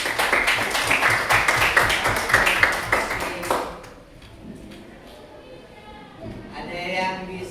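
Brief applause from a small group, quick overlapping claps for about three and a half seconds that then stop, leaving quiet room sound and a voice speaking afterward.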